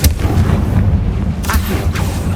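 Confringo fire spell blasts in Hogwarts Legacy: a couple of sharp booming bursts, like artillery fire, cut through a dense rumbling game soundtrack over about two seconds.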